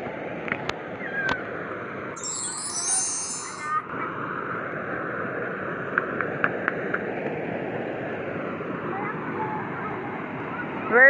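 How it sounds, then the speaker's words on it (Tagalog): A strong river current rushes by as a steady broadband wash of flowing water, with brief knocks and a few faint voices over the continuous noise. "Malakas ang agos ng tubig."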